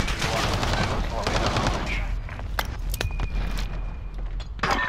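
Rapid bursts of MP5 submachine gun fire in a first-person shooter, close and loud at first, then thinning to scattered sharper shots and clicks over faint background sounds.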